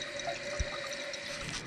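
A toilet tank refills with water, a short steady trickling hiss with a faint tonal whine from the fill valve and a small knock partway through.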